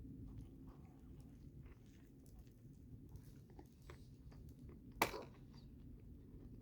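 Someone chews a Jersey Mike's sub sandwich with pepperoni peppers, soft close mouth sounds of biting and mastication with one sharper crunch, quiet and steady.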